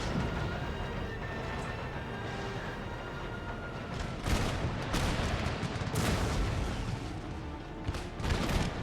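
Cannon and artillery fire in a video game battle, with cavalry and infantry engaged, as a dense rumble of distant gunfire and several louder booms breaking through at irregular intervals.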